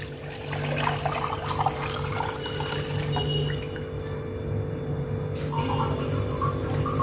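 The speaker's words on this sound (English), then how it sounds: "To this water I'm adding 4 cups of chicken stock." Chicken stock is poured into water already in a pot, a steady close liquid stream with splashing that briefly eases midway before continuing, no speech present.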